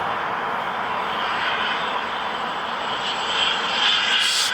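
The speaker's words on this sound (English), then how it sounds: "Here comes this little plane." A Delta Boeing 757 jet arriving at Long Beach airport gives a steady, broad engine roar that swells slightly toward the end, heard from some distance with no talk over it.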